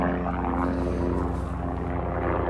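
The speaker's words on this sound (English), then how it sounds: "There's a helicopter." A helicopter passes over a garden plot, its rotor and engine drone holding steady and fairly distant through the whole stretch, with no one talking.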